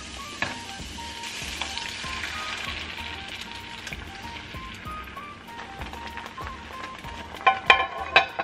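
Pancake batter fries in a pan with a steady soft sizzle and crackle, joined near the end by sharper clinks and scraping of a utensil against the pan.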